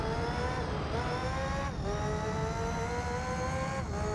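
A Formula racing car engine in Gran Turismo 3 screams at very high revs, holding a loud sustained whine with quick dips at each upshift before climbing again, with no talking over it.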